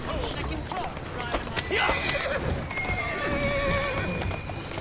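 A horse in Assassin's Creed Syndicate whinnies loudly over clip-clopping hooves, the neigh rising and trailing off across the middle of the passage while a voice speaks.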